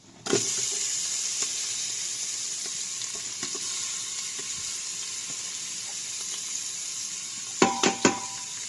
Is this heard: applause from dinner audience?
no